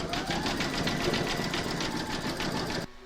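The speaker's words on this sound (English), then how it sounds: "pop that back into your machine and stitch round number 5, and that's going to zigzag this raw edge" An embroidery machine zigzag-stitches the raw edge of an in-the-hoop apple coaster, giving a steady, fast, rhythmic mechanical pulsing that runs close and even before stopping abruptly near the end.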